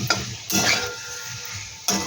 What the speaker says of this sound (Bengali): বন্ধুরা দেখো, আলুটা দিয়ে কিন্তু আমি একটু কষিয়ে নিচ্ছি।